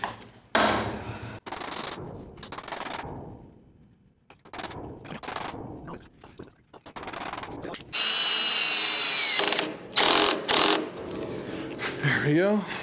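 A power drill drives a screw while fitting new casters on a 130-year-old piano, sounding in a loud sustained whir near the end after bursts of talk and handling noise.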